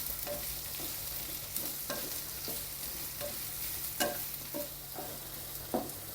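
Chopped onions sauté in a pan for a jackfruit masala, giving a steady soft sizzle broken by repeated scrapes and knocks of a spoon stirring at an even pace, close and moderately loud.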